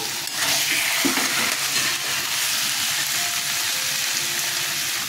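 Peanuts tossed into hot oil for a vegetarian shapla (water lily stem) and potato dish give a steady, dense sizzle that fills the whole stretch, with a brief clatter near the start.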